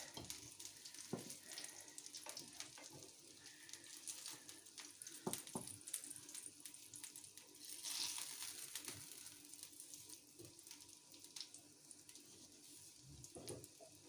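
Fish and zucchini cutlets fry in a pan under a lid, a quiet continuous sizzle and crackle with scattered small pops and spits throughout.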